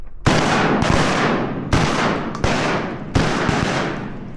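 Rapid volley of about six loud shotgun blasts at an Arkansas public-land duck hunt, each sharp crack trailing into a long rolling echo, fired in quick uneven succession close by with no talking.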